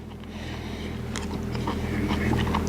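Someone bites and chews crunchy cooked broccoli from a chicken stir-fry close to the mic, with soft irregular crunches over a steady low hum.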